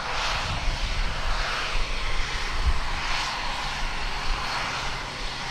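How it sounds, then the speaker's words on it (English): A Christchurch-bound ATR turboprop airliner departs Tauranga airport, its engines producing a steady, broad roar with propeller drone that fills the whole stretch at a moderate distance, with no talking. "The Christchurch-bound ATR departing into the skies above Tauranga."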